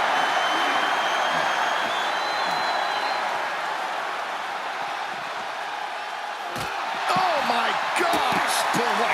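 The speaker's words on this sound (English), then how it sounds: "The sound of this crowd is deafening, and he's asking for more." A large arena crowd roars continuously in the wrestling video game WWE 2K25, a dense wall of cheering, with sharper whoops and shouts rising near the end.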